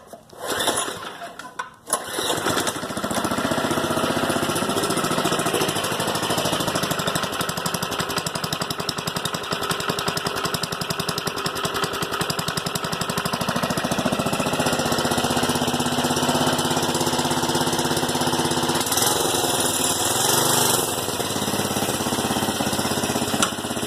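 A small engine on choke catches after a brief pull and then runs continuously, a loud, steady, buzzing drone close by for the rest of the clip.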